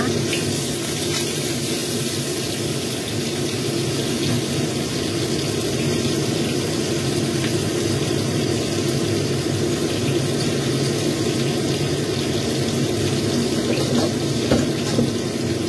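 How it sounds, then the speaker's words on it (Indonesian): White tofu mushrooms, roughly chopped, frying in hot oil in a pan; a steady, dense sizzle and crackle runs evenly throughout at close range, with no talk over it. "ini jamur tahu putihnya kita potong kasar seperti ini, lalu kita goreng"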